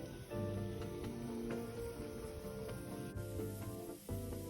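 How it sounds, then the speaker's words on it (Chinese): Three-cup chicken poured into a hot clay pot gives a steady, close sizzle that hisses without a break, with faint scraping and clinks of the pot under it and no talking. "锅热后，再将3杯鸡全部倒入"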